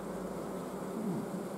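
Honey bees buzz at a hive from a swarming colony, a dense steady hum of many insects close by, even in level with no speech over it.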